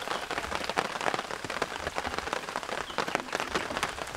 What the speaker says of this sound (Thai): ฝนตกตอนนี ้ช่วงบ่ายนะครับลากยาวมาประมาณ 3-4 ชั่วโมงแล้วนะครับกับฝนนะ